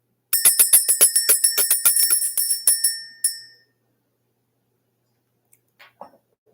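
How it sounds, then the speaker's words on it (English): A small bell rung rapidly, its bright metallic rings clanging about a dozen times in quick succession for around three seconds, then stopping, followed by near silence with a few faint clicks. "we're going to ring the bell and clear out this energy for Steve."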